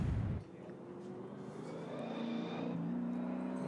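Touring car engine on a New Zealand race track, a steady mid-distance drone that swells gradually as the car comes through a corner, after a brief louder burst at the start.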